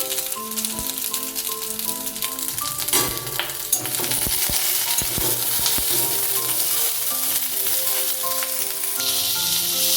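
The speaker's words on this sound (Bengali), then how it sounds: "ভিন্ডিগুলোকে ভেজে নিচ্ছি লাল করে" Whole okra (bhindi) fries in hot oil in a kadai over low-to-medium flame, giving a steady dense sizzle with occasional stirring clatter and scrapes, close and continuous throughout.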